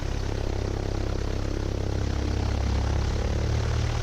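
A Grumman Tiger light aircraft's engine roars steadily at full power during takeoff, a loud, even propeller drone heard from inside the cabin with no talk over it.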